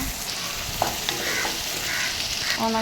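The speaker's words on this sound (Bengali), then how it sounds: "পেঁয়াজ দিয়ে ভালো করে ভাজবো।" Onions frying in oil in a wok at a local food stall, a steady close sizzle with brief stirring clinks and scrapes throughout, no talking.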